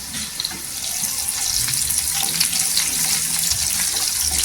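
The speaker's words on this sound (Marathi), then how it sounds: "कढीपत्ता टाकायचा करीपत्ता पण छान असा तरतर करायची" Curry leaves sizzle in hot oil in a home kitchen pan, a steady close crackling hiss with a watery, tap-like spray running for the whole stretch and no talking.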